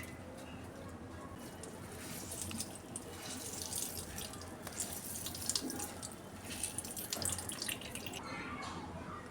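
Grated bottle gourd wrung out by hand through a thin cloth into a bowl, giving soft, close trickling and dripping of water along with faint squishing, fairly quiet throughout.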